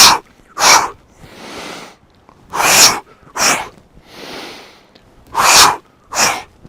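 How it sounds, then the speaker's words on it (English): Forceful qi gong breathing: a person repeatedly exhales in sharp, loud bursts through the nose and mouth, alternating with softer, longer breaths in, in a steady rhythm close to the microphone. "Big force to get the breath out."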